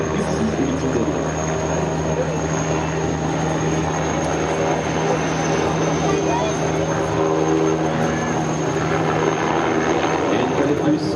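A Tigre attack helicopter drones steadily overhead at an airshow with constant rotor and engine noise, a loud continuous roar while a voice talks over it.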